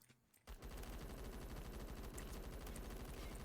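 Light machine gun in the shooter game Phantom Forces fires a sustained, rapid automatic burst after a brief quiet start, loud and continuous with evenly spaced shots.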